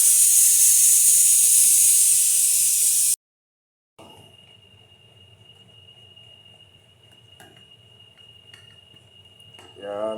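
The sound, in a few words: steam hissing as pressure is released from a pressure cooker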